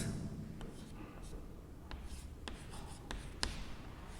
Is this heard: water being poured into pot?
no